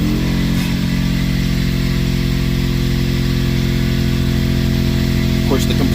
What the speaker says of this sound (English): the compressor comes on right when I don't need it to